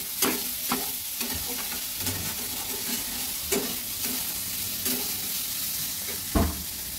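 Mustard paste being stirred together with salt, turmeric and Kashmiri red chilli powder for a vegetarian paneer bhapa, giving soft scraping stir strokes at an irregular pace, close and moderately loud with no talking.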